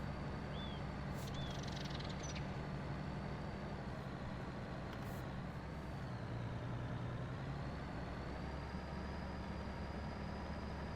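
A truck in a farming video game climbs a hill in ninth gear with a steady, continuous engine drone and a faint high whine running through it. No voices are heard.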